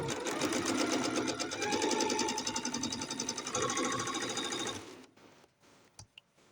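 A sewing machine stitches quilt fabric in a steady, rapid mechanical whir that runs loud and close for nearly five seconds, then stops, leaving a few faint clicks and handling sounds.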